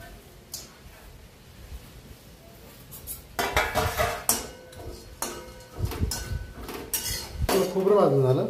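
Grated coconut roasts in a pan on the stove for a spiced eggplant dish, with irregular metallic scrapes and clinks of a spoon against the pan that grow busier and louder toward the end.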